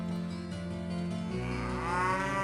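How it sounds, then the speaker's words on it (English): Cows in the Windows 95 video game Diablo give a drawn-out, resonant moo, a single low bellowing call that rises and wavers near the end, heard alone and close. "I forgot about the cows."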